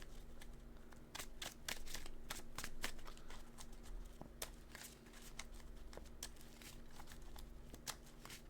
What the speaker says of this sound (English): We're going to give this a real good shuffle.